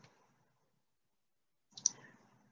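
A computer mouse clicks the Next button during Salesforce setup, a faint click at the start, then silence and a louder short clicking burst near the end, close and otherwise quiet.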